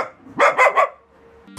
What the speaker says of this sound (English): Their barks were loud and piercing